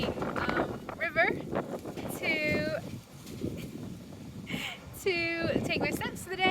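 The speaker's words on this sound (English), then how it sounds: "I'm here in a very windy river" Gusty wind buffets the microphone beside a river, a steady rough rumble that swells and dips throughout while a voice talks over it.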